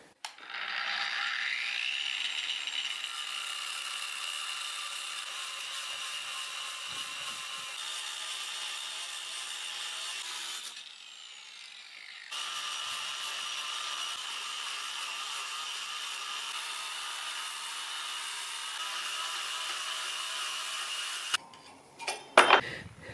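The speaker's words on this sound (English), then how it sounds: "Here I'm going to make one more chop with the cutoff wheel" A cutoff wheel grinds through an iron brake flange backing plate casting for a 107-year-old Chevrolet at low speed, giving a steady, hissing abrasive drone. It is close and continuous, broken by one brief pause near the middle, then ends in a few clatters.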